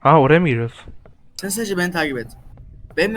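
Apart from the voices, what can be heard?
No everyday noise stands out behind the speech.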